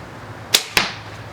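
A Bowtech Prodigy compound bow shooting an arrow gives two sharp, close snaps in quick succession, the release crack and then the hit, set against a quiet background.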